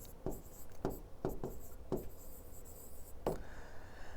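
Chalk or marker strokes as a teacher writes on a board during a Hindi grammar class, several short scratchy taps and strokes in an uneven rhythm against a steady room hum.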